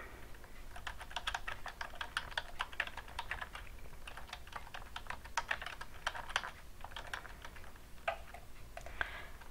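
Rapid computer-keyboard typing fills the whole stretch, a steady stream of close, crisp key clicks with brief pauses, heard alone without any talking.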